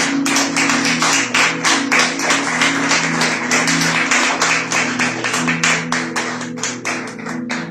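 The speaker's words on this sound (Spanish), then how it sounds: "¿Por qué no le doy un fuerte aplauso a Él?" A church congregation claps loudly together for about eight seconds, a steady rhythmic beat of in-unison claps filling the space, with sustained musical tones underneath.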